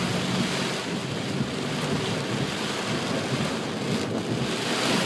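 Heavy rainstorm with strong wind, heard from inside a car driving into a neighborhood: a dense, steady roar of rain and gusts that holds at an even level throughout, with no talking.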